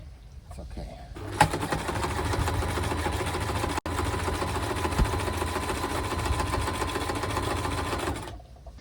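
A sewing machine stitches a Malö boat spray hood, its motor starting up and then running in one steady, loud, close whir for several seconds before stopping.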